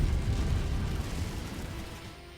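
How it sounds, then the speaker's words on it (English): An ammo explosion in the mech combat game MechWarrior 5, a heavy rumbling boom that starts loud and slowly fades over a couple of seconds, alone without speech. "It was that ammo explosion."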